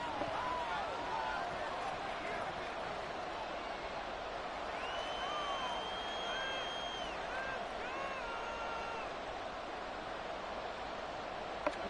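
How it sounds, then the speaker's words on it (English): Steady, dense roar of a stadium crowd in the Madden 24 football video game, holding at an even level throughout with a few faint whistle-like tones rising above it. "this crowd doing their best to make a lot of racket"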